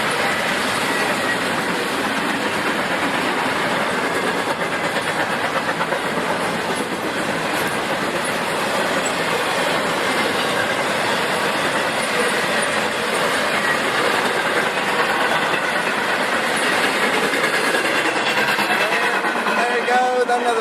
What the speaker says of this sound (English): There you go, another train.